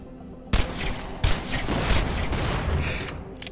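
Two loud sniper-style gunshots from the sci-fi shooter Borderlands: The Pre-Sequel crack out close together, each followed by a long booming echo and ringing tail.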